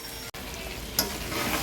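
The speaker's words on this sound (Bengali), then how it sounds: "এবার আলুগুলো আমি অ্যাড করে দেব। আলুগুলো অ্যাড করে দিয়ে 3 মিনিট নাড়িয়ে চাড়িয়ে দেব।" Potatoes added to chicken frying in oil and stirred: a close, steady sizzle with a short break, then a burst of scraping and splattering as the pan is stirred.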